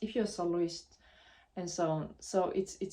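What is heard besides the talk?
No everyday noise stands out behind the speech.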